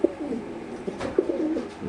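Racer pigeons coo softly in low, rolling bursts, a few calls close by against a faint background hum.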